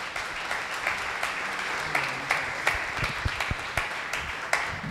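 Audience applause at an electoral reform congress, steady continuous clapping from a crowd with a few sharper nearby claps standing out, moderately loud throughout.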